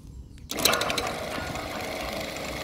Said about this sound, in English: we'll see if the motor starts up or not